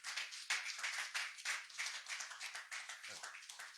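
A church congregation clapping and applauding in rapid, steady, fairly even claps, moderately distant and sustained throughout.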